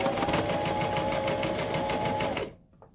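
A sewing machine stitches a half-inch seam on a tote bag, running fast with a steady rhythmic chatter close by for about two and a half seconds before stopping abruptly into near silence.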